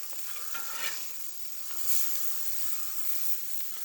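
Deer neck birria tacos frying in oil in a pan, giving a steady, close sizzle and crackle throughout with a few brief stirring or flipping scrapes and no talking.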